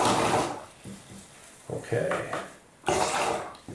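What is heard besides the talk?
rinsing a fan paint brush in water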